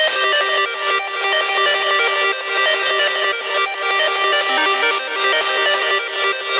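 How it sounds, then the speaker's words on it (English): A heavily limited, compressed and distorted noisy electronic signal in a dark music production style is crushed by sidechain compression. It forms a dense, loud wall of noise that pumps rhythmically about twice per second. "Very noisy, very compressed, very distorted. It's intentional."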